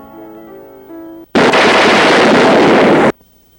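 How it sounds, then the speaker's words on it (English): A single loud, sharp pistol blast fired at a bar-room wall in an Old West saloon, a harsh burst of noise lasting under two seconds that cuts off soft music and is followed by silence. "Wes began to shoot at the wall."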